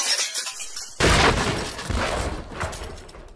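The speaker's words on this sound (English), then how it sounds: "It sounds like glass breaking again!" Glass shattering in the Minecraft video game, a sudden bright crash about a second in that trails off into scattered debris noise, heard alone without talk.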